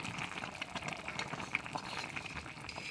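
Eggs boiling in a pot of water make a soft, continuous bubbling and gentle popping, quiet and close, with no talking.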